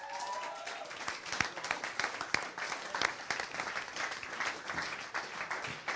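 Audience applause for a performer as he is welcomed on stage at a live music event, steady dense clapping sustained throughout with a few sharper claps standing out, moderately loud and continuous.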